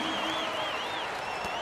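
Houston basketball arena crowd from the NBA 2K16 video game, a dense steady roar of cheering and applause with a commentator's voice running over it.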